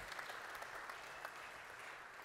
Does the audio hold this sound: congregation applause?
yes